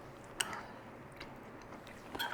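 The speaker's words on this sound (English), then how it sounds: "Broccoli's got some crunch left in it." Someone chews crunchy broccoli from a sweet-spicy chicken stir fry with sriracha sauce, a few close, sharp crunches spaced apart over quiet background.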